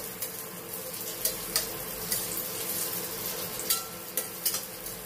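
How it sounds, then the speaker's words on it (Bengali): Raisins frying briefly in a pan for vermicelli payesh, a steady close sizzle with light spatula strokes and faint scraping taps scattered through, no speech. "জাস্ট একটু ফ্রাই করে নিচ্ছি"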